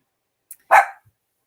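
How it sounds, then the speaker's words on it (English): A dog lets out a single sharp bark at a door indoors, loud and close, preceded by a tiny click and followed by a short tail of quiet. "She just walked to the door and let out a bark."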